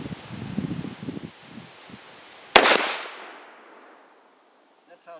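A single sharp rifle shot cracks loud and close during shooting-position practice on a range, trailing a long fading echo, with someone talking calmly before the blast.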